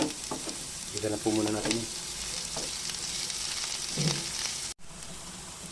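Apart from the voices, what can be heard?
garlic and onion frying in a pan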